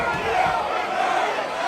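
A wrestling show crowd roaring and shouting in disapproval, a dense, continuous wall of voices filling an indoor venue.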